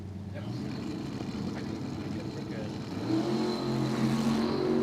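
Drag racing cars, including a 1969 Plymouth Barracuda, rumble and rev on the starting line at Cordova Dragway, a loud continuous engine roar that swells toward the end while an announcer talks over it.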